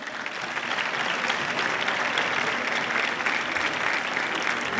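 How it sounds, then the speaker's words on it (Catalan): Sustained audience applause at a festival presentation ceremony for the festival queen and her court of honour, a dense steady wash of many hands clapping close by that fills the whole stretch with no talk. "Els demanem un fort aplaudiment per a despedir a Elba Ibáñez Roda."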